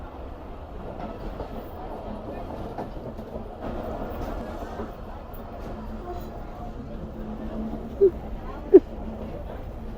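A train running past a mudar tree on its approach to Kotri Junction in Pakistan: a steady low rumble and rattle of rolling stock throughout, with two sharp clanks near the end.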